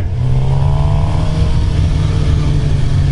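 A 2015 Suzuki GSX-R750 sport motorcycle engine revs loudly and close, with a strong, continuous droning note whose pitch climbs and holds.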